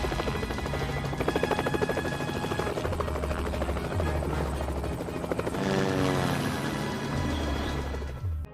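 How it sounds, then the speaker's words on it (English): A helicopter's rotor thumps loudly and steadily overhead, its engine whine rising and falling as it holds close by. "the police begin to explore the swamp while monitoring it from the helicopter, to look for Roma and the gang."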